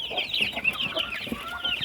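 Several young chickens cluck and chatter close by, a busy overlapping run of short, high calls with no talking.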